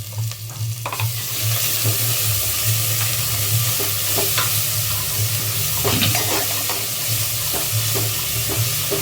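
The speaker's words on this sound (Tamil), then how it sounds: "1/2 kgக்கு தகுந்த மாதிரி நான் வந்து இஞ்சி பூண்டு பேஸ்ட் சேர்த்துக்கிறேன்" Onions frying in a pan as ginger garlic paste is added, a steady close sizzle with scattered scrapes and clinks of stirring over a low hum, and no talking.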